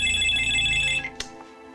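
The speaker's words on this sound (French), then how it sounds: "Un jour, le téléphone sonne." A telephone rings with a bright electronic ringtone, one sustained burst of tones that cuts off about a second in, followed by a short click.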